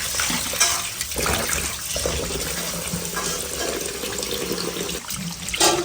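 Tap water runs steadily into a sink while small puti fish are rinsed before frying, a broad close wash of splashing and trickling with brief clatters and surges, no talk over it.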